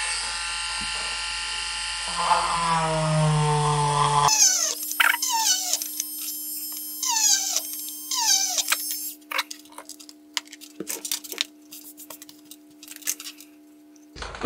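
A power drill bores holes through thin plastic for a homemade solar lamp, its motor whining and shifting in pitch, followed by scattered squeaks and chirping scrapes.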